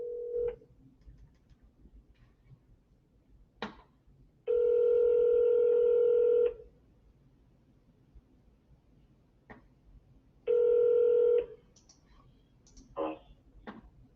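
Outgoing telephone call: a quick dial click, then two long ringback tones a few seconds apart, clear and steady over a quiet line, with a few faint clicks between rings.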